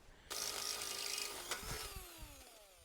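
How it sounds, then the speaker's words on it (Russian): A power drill bores into fence material resting on the ground, whining loudly as it starts, then winding down with a falling pitch and a few light clicks. "Сверлить буду на земле, чтобы было лучше сопротивление."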